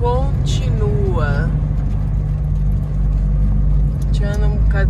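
Steady close cabin rumble from a car creeping through heavy traffic in Bordeaux, running under short bursts of someone talking at the start and near the end.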